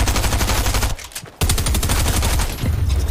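Rapid automatic gunfire in the video game Fortnite plays as a loud, steady stream of shots. It breaks off for about half a second, then starts again at the same pace.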